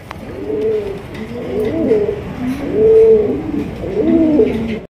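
Pigeons coo in a new breeding pair that has just laid its first eggs; repeated soft, rolling coos come close and clear in a steady rhythm, with no talk over them.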